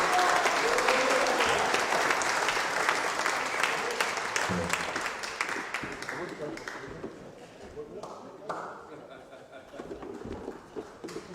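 An audience bursts into loud applause after a twin-fiddle performance, the clapping strong at first and then thinning out toward the end, with some scattered voices in the room.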